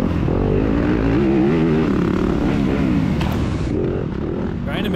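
A 2021 Yamaha YZ250FX four-stroke dirt bike races in a scramble, its engine droning loud and close with rising and falling revs and clatter from the track, and a rider's voice faintly over it.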